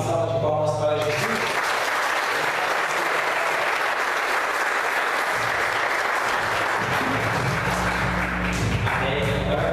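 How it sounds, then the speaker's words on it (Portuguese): A church congregation applauds in praise, with dense sustained clapping for several seconds. It starts suddenly after singing and fades back into voices and music near the end. "Uma salva de palmas para Jesus"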